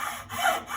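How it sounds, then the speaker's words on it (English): A hacksaw scrapes through a block in a brief, close stroke or two, a rasping, gritty rub with no talk. "sawing straight across with a light touch so you can feel if you're pushing the saw either way"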